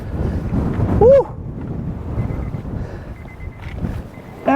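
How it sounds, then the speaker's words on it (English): Wind buffeting the microphone at Fanad Lighthouse in Donegal, a steady low rumble through the whole stretch with a brief whistling gust near the start. "it's windy up here"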